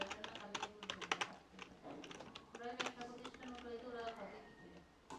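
Code being typed on a computer keyboard, quick clusters of soft clicking keystrokes with brief pauses, heard faintly beneath someone talking.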